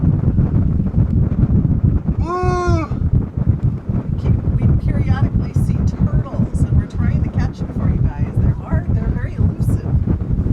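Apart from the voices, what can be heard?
wind on a sailboat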